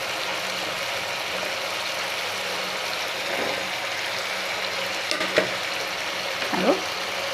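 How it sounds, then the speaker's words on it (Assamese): Pigeon curry with fried potatoes and papaya being stirred in a pan, giving a steady low sizzle throughout, with a couple of brief scraping clinks near the end and no talk. "এতিয়া ভালদৰে মই লৰাই দিছোঁ"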